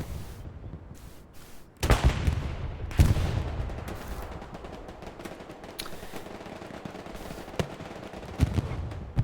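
Machine gun hipfire in the video game Hell Let Loose rips out in several sharp bursts of gunfire, loud and close at first, then sparser shots and rattles spaced across the stretch.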